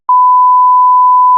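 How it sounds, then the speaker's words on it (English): A loud, steady censor beep, a single pure tone held for over a second that starts abruptly and covers the talk. "Actually, we might have to beep that out."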